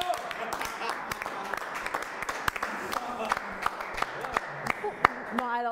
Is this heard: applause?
yes